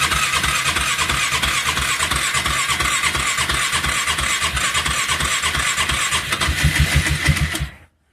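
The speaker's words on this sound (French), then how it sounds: "on appuie sur le bouton démarrer ici" A snow blower engine cranks and catches after its start button is pressed, a loud, close, fast-pulsing mechanical clatter that swells near the end before cutting off abruptly.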